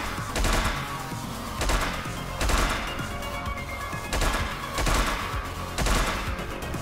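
Shotgun blasts in the top-down action game Hotline Miami 2 come as a string of about six heavy booms spaced roughly a second apart, loud and punchy over a continuous music and game-noise bed.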